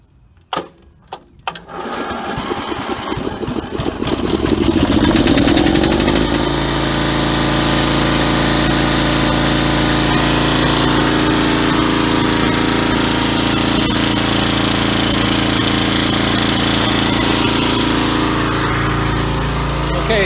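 A Snapper 10 HP riding mower engine cranks with a few sharp starter bursts, then catches and settles into a loud, steady, close-up running drone that continues alone.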